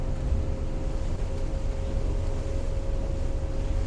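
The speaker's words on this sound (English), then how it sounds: "So the first thing we're gonna do is just creep her up on the throttle around that 3000 RPM mark." A 2022 Yellowfin 7000 Southerner boat's outboard motor runs steadily at around 3000 RPM, a constant droning hum under heavy wind and water rush while underway.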